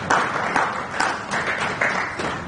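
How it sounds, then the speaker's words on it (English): Applause from a Ugandan political audience at an opposition leader's address, steady dense clapping with slight surges, heard alone without talk. "I think you can clap better than that."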